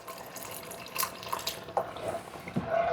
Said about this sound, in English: 32-ounce box of beef broth. And I'm going to pour in